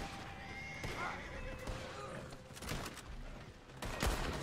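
Horse neighing and clip-clopping hooves in the Red Dead Online video game, a clear whinny early on amid sharp gunfire cracks and game noise, with faint talk.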